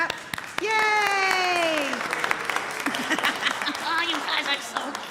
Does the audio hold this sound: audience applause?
yes